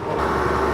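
A loader's engine runs steadily just after starting up, a continuous close mechanical drone with no talk.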